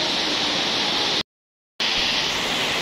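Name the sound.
heavy rain pouring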